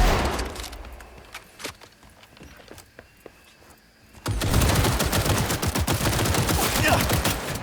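Gunfire in the Cyberpunk video game's final stage at close range: sparse isolated shots at first, then a loud, dense burst of rapid automatic fire with cracking impacts that continues to the end.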